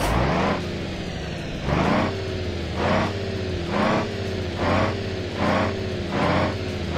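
Heavy truck engine in the BeamNG Drive driving game, hauling a 25-tonne trailer, revving repeatedly in steady surges roughly every second over a constant idle drone, close and loud with no talk.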